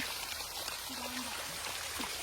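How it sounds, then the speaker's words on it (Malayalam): A steady wash of spring water trickles and splashes continuously at close range as it seeps out through a wall, with faint background sounds but no clear speech. "മതിലിൻ്റെ ഉള്ളിൽ കൂടിയൊക്കെ ഉറവ് പൊട്ടി വരുന്ന വെള്ളം"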